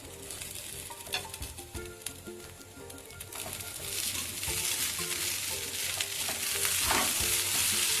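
Flattened rice pulao with fried curry leaves and peanuts stirred in a pan, giving steady scraping and rustling over a soft sizzle that grows louder and denser in the second half, with no voices.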